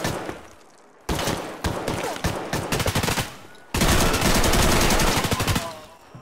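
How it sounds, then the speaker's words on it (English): Rapid bursts of automatic gunfire in Escape From Tarkov crack out loud and close, first in spaced volleys and then in a dense sustained barrage, with a brief quiet gap between them. "I don't know where I got shot from"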